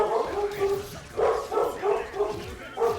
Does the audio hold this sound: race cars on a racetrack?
no